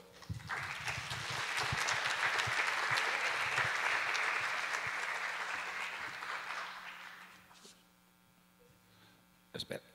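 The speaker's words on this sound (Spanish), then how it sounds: "Reciba un cordial aplauso, por favor." Audience applause at a lecture, a broad sustained burst of clapping that fills the room for about seven seconds, then fades to a quiet hum before a few last stray sounds.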